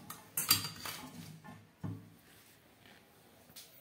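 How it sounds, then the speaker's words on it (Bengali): In a home kitchen, during cauliflower cutlet preparation, a plate is picked up with a few light clinks and knocks, close and quiet, separated by short pauses. "এবার একটা থালা নিয়ে নিলাম"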